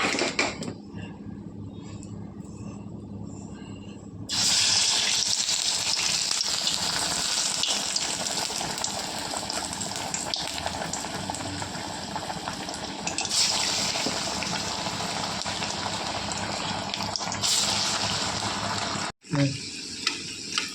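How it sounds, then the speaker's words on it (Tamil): Banana flower vadai fry in hot oil, giving a steady, dense sizzle that swells loudly after a few seconds and continues close up, briefly breaking near the end. "இப்போ வடை தட்டி போட்டுக்க வேண்டியதுதான். எண்ணெய் காய வச்சுட்டா"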